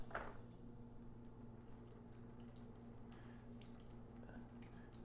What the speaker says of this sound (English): And observe the dripping.